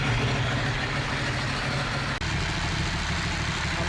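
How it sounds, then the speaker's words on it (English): Ducati 1199 Panigale S motorcycle engine running after an oil change, a steady low idle rumble that shifts slightly in tone partway through, close and fairly loud. "About to start the bike up, let it run for a little bit, and fingers crossed."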